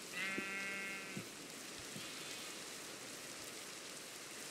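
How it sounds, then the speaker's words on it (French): A single black sheep bleats once in Minecraft, a clear wavering bleat lasting about a second, set against a steady hiss of rain that continues alone afterward. "Il y a un mouton noir"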